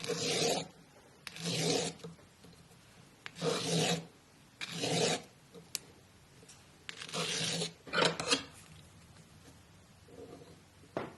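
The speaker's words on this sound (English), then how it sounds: "I'll clean up the sharp edges with a sanding stick." Steady rasping strokes of a sanding stick smoothing sharp metal edges of a jewelry pendant, repeated in long back-and-forth passes with short pauses, close up and moderately loud.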